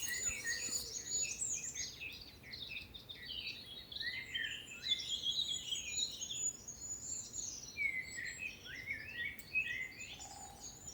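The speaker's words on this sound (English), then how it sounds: "I think I can hear a goldcrest." A goldcrest sings very high-pitched song in the dawn chorus at East Dartmoor nature reserve. Thin, rapid phrases repeat almost continuously over a soft ambient hush of other birds.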